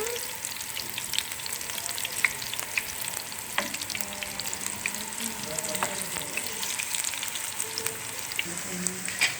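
Chicken pakoras deep-fry in a pan of hot oil, giving a dense, continuous bubbling sizzle with faint crackles, close and steady throughout.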